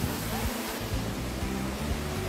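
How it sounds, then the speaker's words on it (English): The Silver Waterfall in Sapa, Vietnam, pours as a dense, steady rushing roar close by, filling everything with constant white-noise water sound. "Hack back, also known as the Silver Waterfall"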